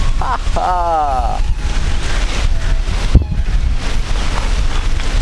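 Wind buffets an outdoor microphone with steady low rumble and gusts throughout, while a person speaks over it at the start.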